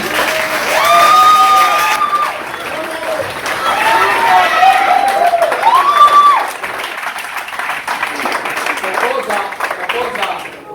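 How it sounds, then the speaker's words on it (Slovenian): Audience applause at the Oplotnica 2022 festival results ceremony, steady and fairly loud, with vocal tones and voices riding over the clapping before it eases into lighter scattered claps. "To je bil zdaj aplavz za zmagovalce"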